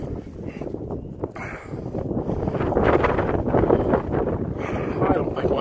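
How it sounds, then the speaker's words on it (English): Strong wind gusting outdoors, a loud, steady rushing roar with buffeting on the microphone that swells and builds in intensity over several seconds. "Wind is really picking up"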